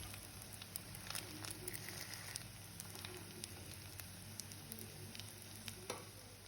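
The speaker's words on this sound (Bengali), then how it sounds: "এই কিন্তু ভালো রকমেই কিন্তু ভাজাটা হয়ে এসেছে" Noodle chop pakoras (chowmein fritters) fry in oil with a steady close sizzle, dotted with sharp crackles and small pops throughout; no one speaks.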